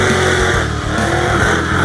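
Ford race cars accelerate hard in a drag race with a loud, continuous engine roar that stays strong and close throughout.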